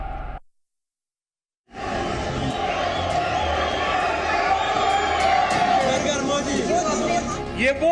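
Large crowd at a rally in Bakshi Stadium, Kashmir, a dense roar of cheering and chatter that bursts in after a brief silence and swells with whoops, loud and sustained, with speech mixed in.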